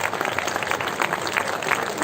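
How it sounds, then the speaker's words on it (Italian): An audience at a fashion show gives a final round of applause, brisk close clapping sustained without a break. "un ultimo applauso"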